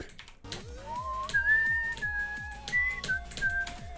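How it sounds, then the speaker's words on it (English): A person whistles a wavering, sliding tune, clear and close, over a rhythmic backing of repeated percussive taps. "Oh, look at that, I can whistle normally."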